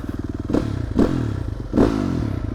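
A Yamaha YZ250F dirt bike being kicked over and catching, three heavy thumps of the start attempts giving way to a close, loud, rapidly pulsing four-stroke idle.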